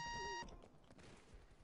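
Short electronic beep sequence from a four-player party game session: a steady high-pitched tone with bright harmonics lasts about half a second, then cuts off, leaving low background murmur.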